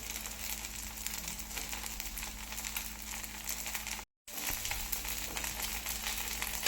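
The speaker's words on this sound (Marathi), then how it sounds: "मिडियम फ्लेमवरती आपण डोसा भाजत आहोत" Davangere butter dosa roasting in a pan over a medium gas flame, a steady soft sizzle and crackle that runs throughout and breaks off briefly in silence before resuming.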